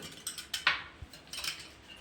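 Curd being whisked with salt, turmeric, chili powder and pepper in a bowl, heard as a few light, separate clinks and scrapes of the whisk against the dish, close and quiet with short gaps between strokes.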